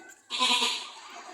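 A human voice imitates a baby goat's bleat, a single short, high, wavering cry rising in pitch, close and fairly loud.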